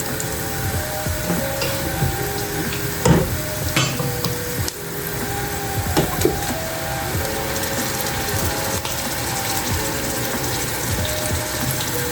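Chicken biryani base frying in a pan with masala, a steady sizzle running throughout with repeated scraping and clattering of a spoon stirring the pot, close and fairly loud, no voices.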